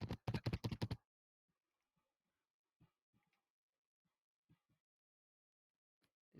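A computer keyboard picked up by a microphone, a quick burst of loud close clacking keystrokes at the start, then sparse faint isolated key taps with long quiet gaps.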